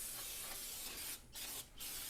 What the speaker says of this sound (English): Using brake clean for what it was actually meant for.